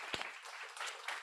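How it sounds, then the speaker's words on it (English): A short stretch of moderately faint audience clapping at a guide dog graduation ceremony on campus, with a sharp thump near the start. "we'll clap for them."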